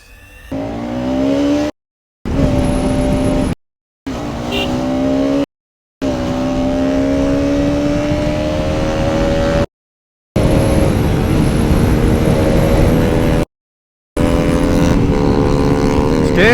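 A Bajaj Pulsar RS200 sport motorcycle engine screams through repeated rising revs, broken by brief gaps, loud and close throughout.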